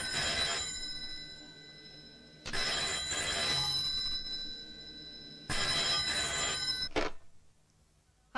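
A telephone bell rings in long repeated bursts with short pauses between them, bright and clear in a quiet room, before cutting off abruptly at the end.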